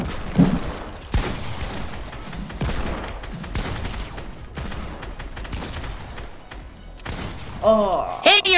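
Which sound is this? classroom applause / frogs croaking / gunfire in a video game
gunfire in a video game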